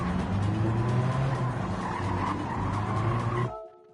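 A GT4 race car in a racing video game brakes hard and skids, its tires squealing and the engine roaring loudly and steadily for several seconds before the sound cuts out abruptly.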